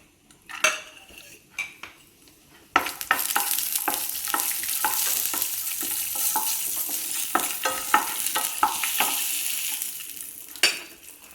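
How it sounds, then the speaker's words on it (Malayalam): Chopped cashews frying in a tablespoon of ghee in a pan: a few spoon clinks at first, then a steady close sizzle broken by repeated scraping stirs and metal taps, with no speech. "ഒരു പാനിലേക്ക് 1 ടേബിൾ സ്പൂൺ നെയ്യ് ചേർത്ത് കൊടുക്കാം. ചെറുതായി അരിഞ്ഞ അണ്ടിപ്പരിപ്പ്,"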